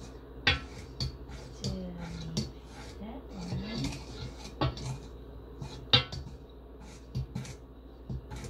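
Sugar being stirred in a mixing bowl for Hawaiian malasada dough, heard as scattered clinks and scrapes of a utensil against the bowl, with a couple of sharper knocks under faint background talk.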